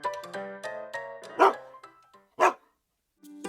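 Dog barking in a rural homestead setting: two loud, close barks spaced about a second apart, with other sharp yips and vocal sounds before them and brief quiet gaps between.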